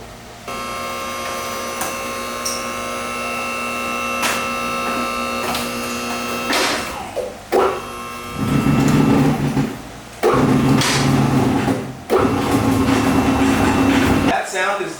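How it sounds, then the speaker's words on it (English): Shifter of a rusty Ford F-100 truck being pulled up out of its rubber shift boot, producing loud creaking squeaks and rubbing bursts, close up, after quieter squeaks and clicks over a steady background hum. "That sound is the shifter squeezing out of the shift boot."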